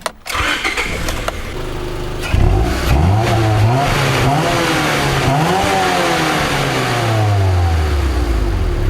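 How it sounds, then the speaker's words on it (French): A Japanese car's Honda F20 engine starts and revs, loud and close, climbing and falling through several sweeping rev pulls after an initial crank, then holding a steady drone with no one speaking. "je vais vous faire écouter le moteur juste après."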